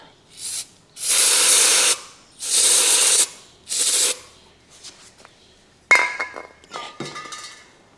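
Starting fluid sprayed from an aerosol can into a dormant lawn mower, three loud hissing bursts of about a second each, followed by metallic clinks and rattles of parts being handled nearby.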